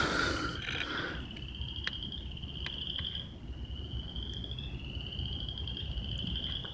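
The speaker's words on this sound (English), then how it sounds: "Slight correction there, it's a green frog." A green frog calls repeatedly in a wet outdoor setting at night, each short croak standing out over a constant hum of insects. Other faint animal sounds carry from farther off.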